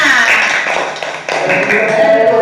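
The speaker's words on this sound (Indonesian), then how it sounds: "Iya, tepuk tangan untuk temannya." Young children in a classroom clap for a classmate, a dense burst of small handclaps filling the room, loud and close, with voices mixed in.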